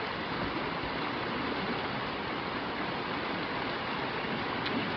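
Water flows steadily beside a lakeside campsite on the Shores Lake Loop, a constant, fairly close rushing wash with no breaks and no voices.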